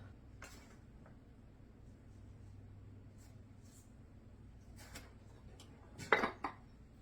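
Sugar being stirred into a blueberry dessert mixture in a bowl, soft faint scraping with a few light clinks of utensil against the bowl and a sharper clatter near the end.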